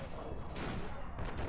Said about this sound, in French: Ah ouais, petites explosions, ça c'est chiant vraiment.